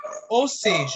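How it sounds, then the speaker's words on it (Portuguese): A dog barks and yips close by during an online class, its short bursts overlapping with someone speaking. "tem um cachorro latindo"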